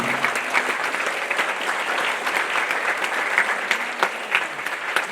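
A concert hall audience keeps clapping for a Ukrainian-American pianist, a steady, even round of applause with no voices standing out.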